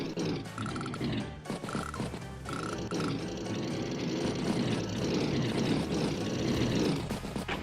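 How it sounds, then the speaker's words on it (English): Fighter aircraft flying in during an Advance Wars match, a continuous roaring propeller-engine drone with a busy layered texture that stays loud throughout. "Fighters coming in for a bit of a sortie."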